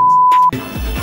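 A loud, steady censor beep tone holds for about half a second, then cuts off abruptly into muffled room noise.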